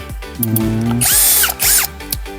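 A TOTAL power drill whirs loudly in several close bursts. The motor spins up, holds its pitch, then winds down between runs, with no voices.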